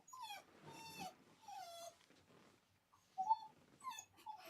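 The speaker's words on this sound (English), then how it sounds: "My dog has a question." A pet dog whimpers and whines in a series of high, drawn-out cries, pausing briefly and then resuming with sharper yips, close by with no talk over it.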